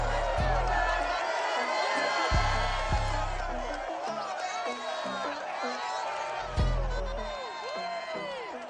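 Stadium crowd cheering in an EA Sports NFL football video game as the Jaguars emerge, a loud sustained roar with whoops and shouts, punctuated by heavy booming thuds and an announcer's voice over it.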